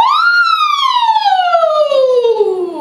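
A loud, close voice imitates a siren, holding a high wail that slowly slides downward in one long sustained tone.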